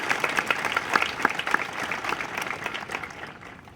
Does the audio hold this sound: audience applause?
yes